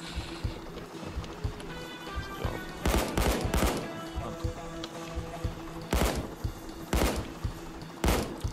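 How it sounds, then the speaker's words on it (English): Video game turret firing bullets, loud bursts of rapid gunfire in several separate volleys, with quieter game background noise between them. "Watching all the bullets of my turret."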